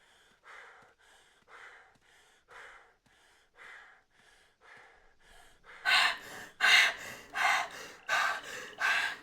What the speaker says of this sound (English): Do you hear my person heavy breathing?